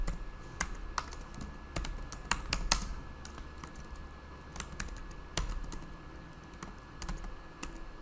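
Rapid, uneven clicking of computer keys as an epic name is typed into Jira, close and crisp with bursts of keystrokes and short pauses.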